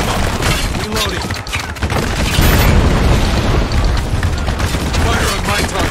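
Mortar fire and explosions in the war shooter Spec Ops: The Line, heavy booming blasts and rumbling detonations rolling continuously with gunfire under the din, while voices shout over it.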